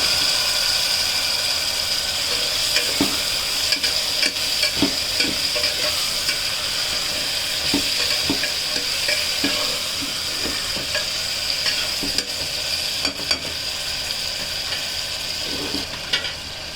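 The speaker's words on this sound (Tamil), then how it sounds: "தக்காளி வந்து நல்லா வதங்கணும்." Tomatoes sautéing in a pan with onions for brinjal thokku, a continuous close sizzle broken by repeated scraping and tapping of a spoon as they are stirred, with no speech.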